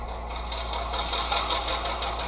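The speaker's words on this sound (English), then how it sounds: "The engine sounds good." A small phone speaker plays an HO-scale model locomotive's sound-decoder engine noise, a steady mechanical chugging drone with a soft rhythmic pulse and constant low hum, close and fairly loud with no talking.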